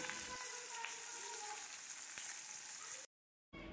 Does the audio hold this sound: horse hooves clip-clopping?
no